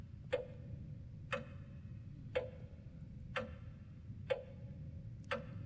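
A clock in the horror game The Lost Fear ticks steadily, one crisp tick roughly every second, quiet and alone over a faint low ambient drone.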